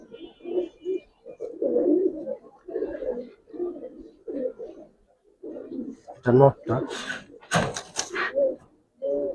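Palla line pigeons in a loft coo in repeated low, soft phrases that follow one another steadily. Louder wing flutters or clatter come near the end, and someone speaks briefly.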